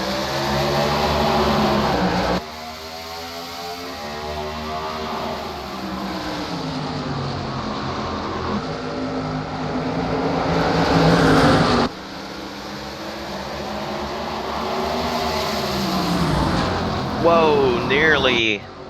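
MG Cup Series race cars at Richmond in a 2008 race: loud, droning engine whines rise and fall in pitch as the cars speed around the track, continuous and close, with voices talking over them.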